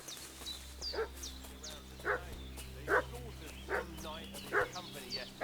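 Dog in Kingdom Come: Deliverance II barking in a steady rhythm, about six sharp yips spaced roughly a second apart, moderately distant and faint, over a low ambient hum with some game chatter.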